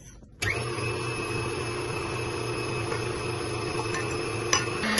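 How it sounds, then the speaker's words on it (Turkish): A stand mixer whisks bread dough with olive oil, making a steady, even motor whir with a faint rattle. It starts abruptly and runs continuously at moderate loudness. "zeytinyağını bir 3 dakika daha çırpacağım"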